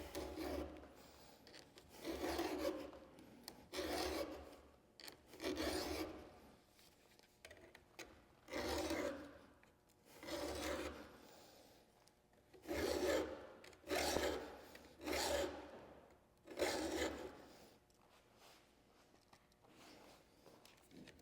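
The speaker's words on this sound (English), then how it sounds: "as I sharpen. And it should be sharpening this edge and taking the raker down a little bit" A file rasps across the cutters and depth-gauge rakers of a Stihl MS462 chainsaw chain in repeated, rhythmic strokes, each a few seconds long with brief pauses between, close and fairly quiet.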